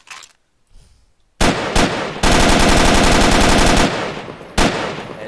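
An RPK machine gun in Garry's Mod fires loud, rapid bursts, a short one and then a long sustained stream with a final burst, alone with no talk.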